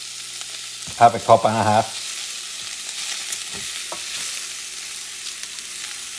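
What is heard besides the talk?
rice frying and being stirred in a pan for arroz carreteiro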